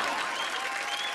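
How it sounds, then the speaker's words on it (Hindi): Dense audience applause at a live Salman Khan award-show performance, a steady wash of many hands clapping throughout the short burst, fairly distant and even in level. "तालियां"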